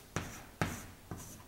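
Writing on a board during a quantum information theory lecture: three distinct, sharp strokes spaced about half a second apart, close and fairly quiet, in an otherwise hushed room.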